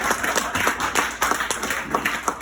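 A live comedy-club audience applauds a comedian as his set ends: dense, steady clapping from many hands fills the room at even strength throughout, with no pause.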